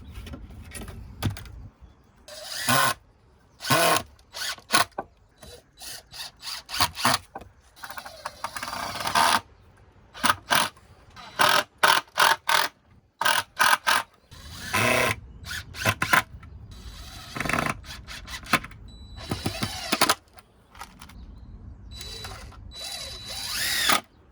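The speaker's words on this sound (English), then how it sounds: "Trusty drill, just got to drill these bits together." A power drill whirring in repeated short bursts with gaps between, driving screws to join wooden pieces together, close and loud, no voices.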